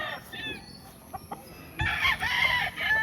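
On a Filipino farm, a rooster crows loudly near at hand while other chickens cluck and call in the background.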